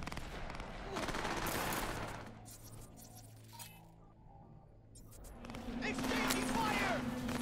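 Gunfire in the video game Cyberpunk 2077: short bursts of rapid shots and clinking rattles open the stretch, fade to a quieter lull, then return loud near the end, with a voice talking over parts of it.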